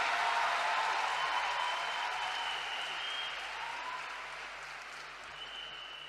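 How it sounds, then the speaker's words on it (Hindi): An audience at a direct selling business event breaks into loud applause for the prime minister, a dense sustained clapping that slowly fades a little toward the end, with no one talking over it. "तो एक बार जोरदार तालियां देश के प्रधानमंत्री नरेंद्र मोदी जी के लिए।"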